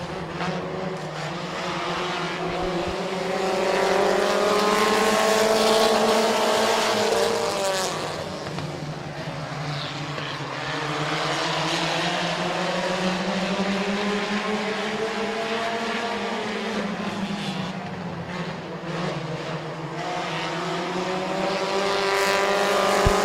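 Race cars roar around the oval at Midvale Speedway during a 15-lap race, loud engine drones rising and falling in pitch as the pack sweeps past, continuous with no talk.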